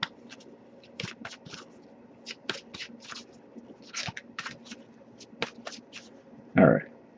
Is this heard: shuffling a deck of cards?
yes